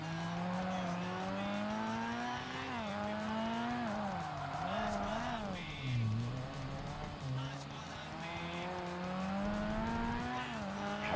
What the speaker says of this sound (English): here's a factory race car